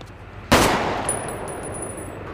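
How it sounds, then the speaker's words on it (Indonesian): A single loud gunshot cracks out, followed by a long decaying echo and a faint high ringing. "Dikarenakan terdengar suara tembakan"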